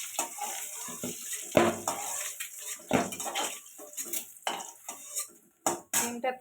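A metal spatula or spoon scrapes and clinks against a pan as fried eggs are lifted out, with irregular close knocks and scraping strokes and brief pauses between them, no talk.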